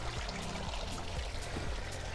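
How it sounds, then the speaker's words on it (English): Water from a garden water feature pours and laps continuously at a steady, close level outdoors, with no voices. "Sound of water lapping away."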